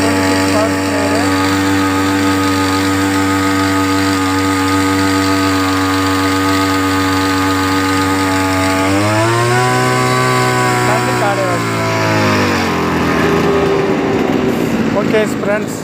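An engine-driven agricultural power sprayer, the model 26, runs at a steady high-pitched buzzing whine, loud and close, then the pitch shifts as the engine speed changes and it winds down toward the end.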